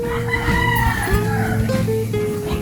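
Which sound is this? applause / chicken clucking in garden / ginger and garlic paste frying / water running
chicken clucking in garden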